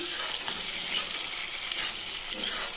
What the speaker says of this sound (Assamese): এই বিলাহীটো অকণমান ভাজিম